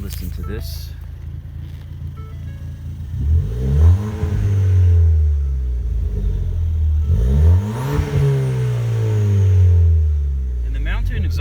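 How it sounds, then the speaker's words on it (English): Ford Fiesta ST with a Mountune exhaust, heard from inside the car, rising and falling through two loud revs over a steady idle drone, with a person talking at the start. "I'll start the car up here and let you hear it."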